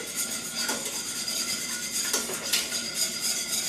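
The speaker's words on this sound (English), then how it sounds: "Now I'm going to whisk it up in there so that everything gets mixed in." A whisk stirs a garlic and powder cream sauce in a pot, giving a continuous scraping swish with light metallic clinks against the sides, close and steady without talk.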